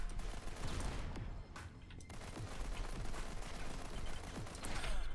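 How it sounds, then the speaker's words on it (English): Grenades blast in the Modern Combat 5 shooter on PC, a dense run of loud explosive bangs and rattling gunfire that stays heavy and continuous throughout, with no talking. "Let's chuck all of our hard-earned grenades into a single place"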